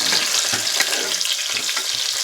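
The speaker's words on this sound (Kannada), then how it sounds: "ಇವಾಗ ಆನಿಯನ್ನು ಬಂದ್ಬಿಟ್ಟು ಸ್ವಲ್ಪ ಬ್ರೌನ್ ಕಲರ್, ಯೆಲ್ಲೋ ಕಲರ್ ಆಗೈತೆ ರೀ" Onions fry in a hot pan, a steady close sizzle with crackling pops and occasional stirring scrapes, no voices.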